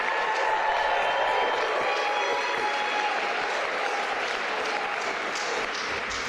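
Ceremony audience for outstanding vocational technical students breaking into sustained applause and cheering for favourite teachers, a dense even wash of clapping and whoops that holds steady, with faint voices mixed in.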